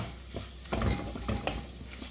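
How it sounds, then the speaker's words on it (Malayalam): Turmeric powder is stirred in a pan while making a thick-gravy rohu fish curry, with a few soft scraping strokes and light clinks of a spoon against the pan over a faint background sizzle. "ഒരു മിനിറ്റ് ഒന്ന് ഇളക്കി കൊടുക്കാം"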